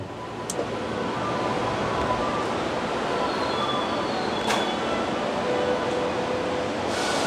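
Steady rumble of a moving JR East Senseki Line train car from inside, continuous rolling noise with faint squeals and clicks, no talking.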